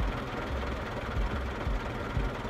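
A car engine idles steadily at a police checkpoint, a low continuous rumble with faint pulsing throb, fairly close and without talk over it.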